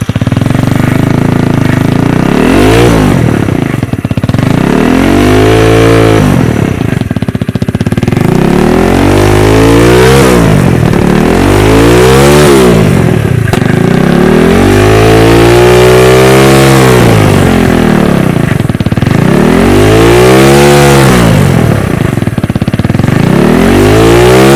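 A Kawasaki Z125 Pro motorcycle fitted with a Werkes full-system exhaust revs repeatedly, its loud, close engine note climbing and falling in a steady cycle of throttle blips over a constant idle.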